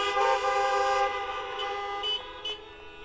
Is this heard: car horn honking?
yes